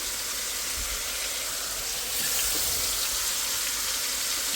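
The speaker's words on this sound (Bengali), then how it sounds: "তাতেই রান্না করতেছি আর পাশের চুলায় হলো ভাজি বসিয়ে দিছি" Vegetable bhaji frying in a pan on the stove gives a steady, fairly quiet sizzling hiss that holds unbroken throughout with no voices.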